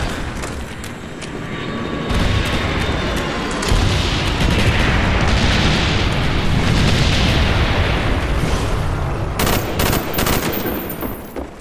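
Heavy rumbling explosions and booming blasts roll on continuously from a B-52 bomber strike in Call of Duty: Black Ops multiplayer, with rapid gunfire-like crackle layered over a dense, loud battle din.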